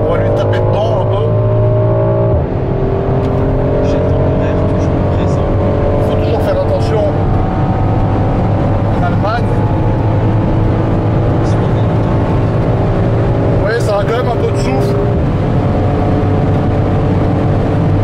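A car engine revs during tuning, a continuous loud drone with rising and falling pitch sweeps held close for the whole stretch.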